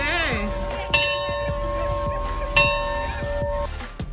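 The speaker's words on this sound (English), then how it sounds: "I even got to ring the bell on the ship." A ship's bell aboard the Glenlee, a Clyde-built tall ship moored in Glasgow, rings with two sharp, ringing strikes that hum and fade, with voices in the background.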